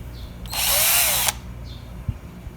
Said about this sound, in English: So I'm going to start it off with a drill, just to make it easier for the router